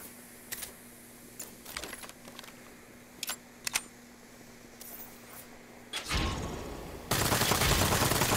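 Saints Row gunfire rings out as scattered sharp shots, several quick single cracks and short bursts, followed by a louder sustained burst of noise near the end.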